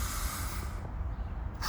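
A single deep, slow inhalation drawn steadily through the nose and mouth, airy and close, with no talking over it.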